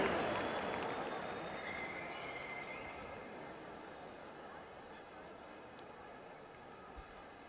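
Audience applause greeting a singer coming on stage at a memorial event for July 15 martyrs, a broad wash of clapping that starts loud and slowly thins out as it fades.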